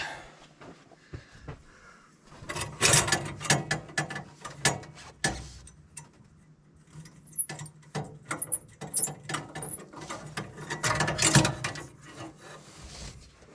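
A nut is tightened on a Branson tractor during work on its diesel particulate filter, producing close, irregular bursts of ratcheting clicks and scraping metal with short quiet pauses between them.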